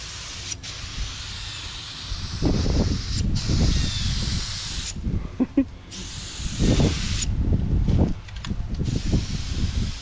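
A spray gun lays clear coat paint onto a car hitch in a series of hissing bursts that start and stop several times, close by, with brief quiet gaps and faint talk between passes.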